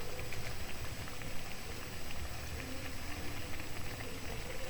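Risol mayo fries in hot oil with a dense, continuous sizzle and crackle, steady and close, with no voices over it.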